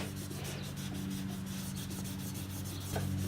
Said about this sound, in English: Take our terry towel like this, it's already folded nicely. We're just gonna go ahead and rub off any excess polish.